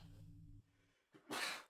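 A single sharp sneeze bursts out close and loud after a soft low hum and a brief intake of breath, with no talking around it.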